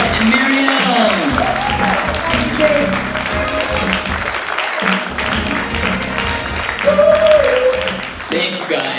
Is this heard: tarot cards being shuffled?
no